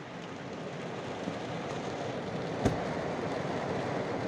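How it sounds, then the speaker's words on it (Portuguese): Heavy rain soaks the ground in Tucumã, Pará, at the end of August 2021, an even, steady hiss of downpour with one sharper knock partway through. "Chuva pra molhar mesmo o chão."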